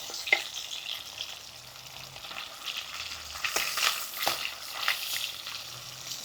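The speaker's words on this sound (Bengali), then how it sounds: "মাছটা এক সাইড ভেজে নিয়েছি" Koi fish fries in hot oil with a soft, steady crackle that swells into louder sizzling bursts midway, close by and without any speech.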